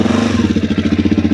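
A motorcycle engine pulses rapidly and evenly up close while the rider learns to wheelie, a loud throbbing putter with a steady low rumble throughout the short stretch.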